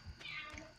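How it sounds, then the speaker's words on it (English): A cat meows faintly in a Stardew Valley farming game, giving one drawn-out, whining call over quiet background noise. "Cat's making noise at me."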